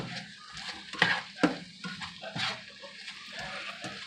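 Stir fry sizzling in shortening in a pot, with a steady frying hiss and a few sharp clinks and scrapes of stirring, close up and without talk.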